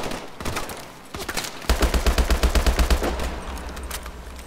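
Gunfire in Call of Duty: Advanced Warfare: a few scattered shots, then a rapid automatic burst of evenly spaced, punchy rounds that trails into further firing, loud and close.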